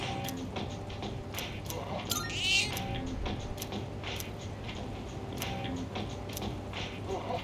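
Cat meowing inside the video game Persona 3 Reload, a short whiny cry rising over steady game background music, with faint ticking clicks scattered through the loop.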